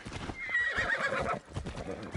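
Horse hooves clip-clop in a galloping rhythm and the horse neighs once, loud and close, in the Assassin's Creed Shadows video game. No voices are heard.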